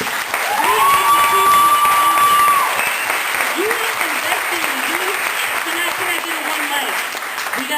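Applause from an audience at an LGBT youth discussion on homelessness, steady and moderately loud throughout, with a voice talking over it and a sustained whistle-like tone early on.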